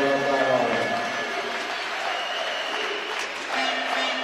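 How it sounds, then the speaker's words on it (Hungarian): A home basketball crowd in Dombóvár, Hungary, rises and applauds the players in a steady, moderately loud wash of clapping that fills the arena, with a slight swell near the end. "a dombóvári közönség feláll, és úgy tapsolja meg a játékosokat"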